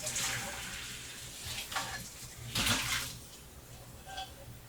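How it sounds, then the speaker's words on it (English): Water splashing as boiled potatoes are drained in a colander at a kitchen sink, a close, uneven gushing pour with a couple of stronger surges. "now we're going to go drain potatoes in a colander"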